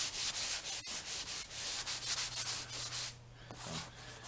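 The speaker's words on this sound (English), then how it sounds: "we're not trying to sand anything down other than just to knock the pokey parts off" Rhythmic hand sanding on a sealed wooden door, a rasping scrub repeated in quick regular strokes, close by, then briefly easing off near the end.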